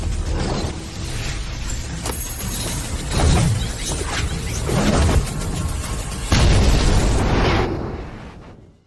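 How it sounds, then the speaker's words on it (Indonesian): Small cauldron exploding in a series of loud, close bursts and booms, with rumbling and mechanical rattling between them, fading out at the end. "Meledak lagi. Jangan-jangan gagal ya."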